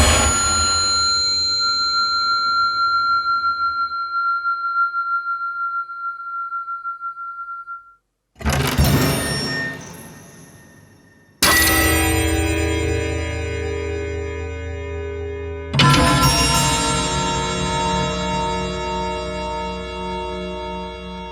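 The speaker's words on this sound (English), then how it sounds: "So this is what the spring sounds like." Spring sound effects from the Maleventum 2 plugin: a long ringing metallic tone fades out, then three heavy, reverberant spring impacts strike in turn, each loud at onset and decaying into a resonant, wobbling tail.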